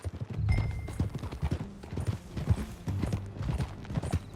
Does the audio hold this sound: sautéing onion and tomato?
no